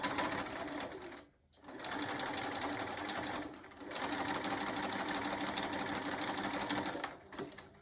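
A home sewing machine runs in steady, close bursts while stitching a pinned fabric mug rug, pausing briefly twice before whirring on again.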